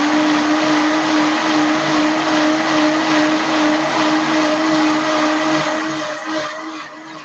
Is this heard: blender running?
yes